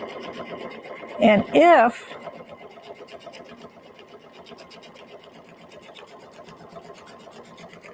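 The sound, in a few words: Brother Aveneer sewing machine sewing quilt fabric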